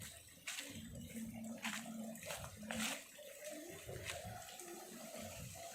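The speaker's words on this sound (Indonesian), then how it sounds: "Tuh air mengalir bagus ya" River water rushes continuously beneath the Cirahong bridge, a broad steady wash of flow with a few brighter splashy surges, fairly close and alone without talk.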